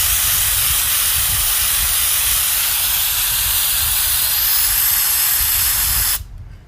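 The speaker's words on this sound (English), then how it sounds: "I'm going to spray it directly on here." A steady, loud hiss of Moisture Guard aerosol spray runs continuously for about six seconds, then cuts off abruptly.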